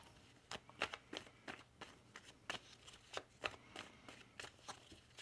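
Tarot cards are shuffled in a series of crisp, riffling bursts, close and fairly quiet, with short pauses between the flicks.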